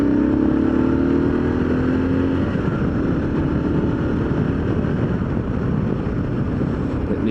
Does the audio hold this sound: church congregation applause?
no